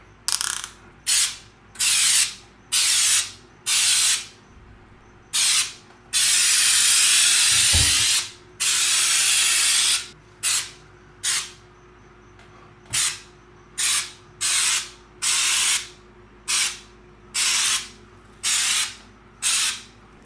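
Heavy orange peel texture sprayed onto a bathroom wall, repeated short hissing bursts of a spray gun in uneven rhythm, one long continuous spray in the middle, close and loud with no talk.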